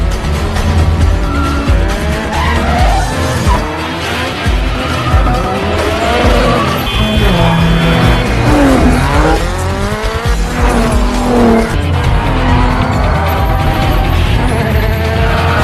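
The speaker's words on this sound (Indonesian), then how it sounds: "Nela, terjadi sedikit adegan dramatis dan dilanjut dengan aksi kejar-kejaran mobil ala Fast and Furious." Tires screech and squeal repeatedly over roaring car engines in a loud, continuous car chase from the film Tokyo Drift, with revving motors and sliding skids throughout.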